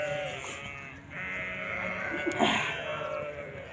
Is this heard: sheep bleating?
yes